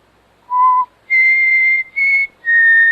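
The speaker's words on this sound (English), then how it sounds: "I just whistled." A man whistles four clear tones alone: a short low note, then three longer, higher held notes with brief gaps between them, close and fairly loud.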